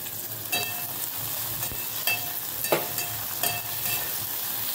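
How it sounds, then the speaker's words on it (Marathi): Onion and tomato stir-frying in a pan for Bhokar bhaaji, a steady close sizzle with a few sharp spatula scrapes and clinks standing out over it, no voices. "टोमॅटो पण व्यवस्थित आपण परतून घ्यायचा आहे"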